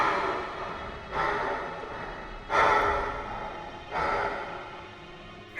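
A voice imitates a monster's heavy panting breath: four drawn-out, raspy breaths, each swelling and fading, close and fairly quiet, with short pauses between them.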